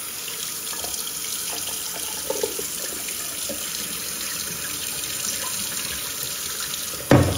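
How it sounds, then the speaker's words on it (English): Cold tap water pours steadily into a bowl, a continuous hiss with a brief clunk near the end. "fill this to the brim with this nice cold water"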